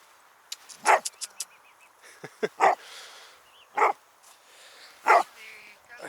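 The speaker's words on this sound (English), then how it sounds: "with this guy barking in the background" A dog barks in the background with a few sharp single barks and short yips spaced irregularly, moderately near, with a voice talking in between.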